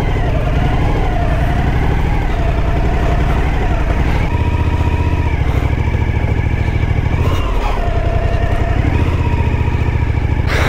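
Motorcycle engine running steadily while riding on a road in Dakar, Senegal, with a continuous loud mid-pitched drone and rising and falling tones as the throttle shifts, briefly catching wheel spin, recorded close up without talk.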